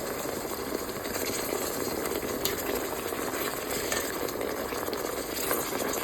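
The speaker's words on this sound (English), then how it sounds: "We'll put it like on a low simmer" Birria broth simmering on low heat makes a steady, even bubbling hiss, continuous and moderately quiet with no talk.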